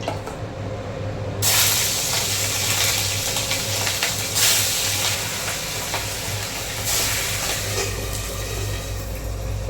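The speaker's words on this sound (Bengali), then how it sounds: "ইলিশ মাছ ভাজা মোটামুটি হয়ে গেছে" Hilsa fish frying in hot oil, a steady, loud sizzling hiss that runs without pause and swells slightly partway through, with no talking.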